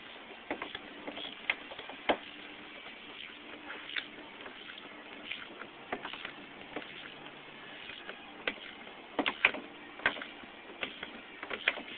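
A socket wrench tightening a bolt while installing a locking bar on plastic containers, with a steady run of small ratcheting ticks and clicks in irregular bursts, close and fairly quiet, with some sharper clacks.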